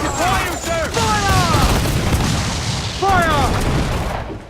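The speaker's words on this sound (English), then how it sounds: "Those cannons have a long reach. Fire!" Ship cannons firing in Assassin's Creed 4 Black Flag, heavy booming volleys in loud rapid succession, mixed with shouting voices over a rumbling sea battle din.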